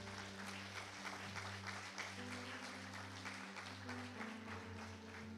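A church congregation applauds during a healing service, a steady wash of clapping under a loud, constant low hum and sustained music tones, the whole thing fairly distant and muffled.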